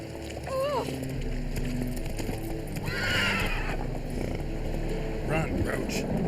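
Roach, the horse in The Witcher 3, whinnies loudly near the start and again late, with rhythmic galloping hoofbeats running throughout, all in a busy game soundscape.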